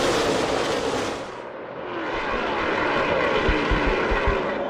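NASCAR stock cars, Dodge and Chevy, roar into turn one side by side at the 2010 Shelby American 400, a loud sustained engine drone that dips briefly and then swells back, with no speech.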